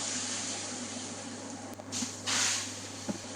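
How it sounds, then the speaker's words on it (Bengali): A pinch of asafoetida tempering poured into dal makhani, giving a steady hissing sizzle that swells briefly near the end, with a low constant hum underneath and no talk. "হিং ঢেলে দিলাম এক চিমটি এখন ঢেলে দিচ্ছি ডালের মধ্যে"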